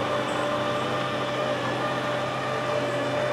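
MX 100 stand mixer beating bun dough for jumbo bakpao, a steady close electric motor whir with a constant hum and faint mechanical rattle running throughout, no talking.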